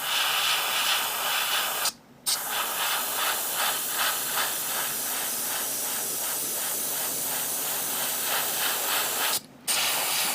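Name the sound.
spraying paint at low pressure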